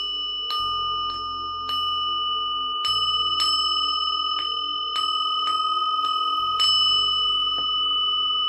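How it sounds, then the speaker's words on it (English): A bell is struck seven times at spaced intervals during a Buddhist chanting practice, each strike ringing out clearly and sustaining a long, shimmering tone over a faint low hum. "back to hell with 7 strikes of the bell"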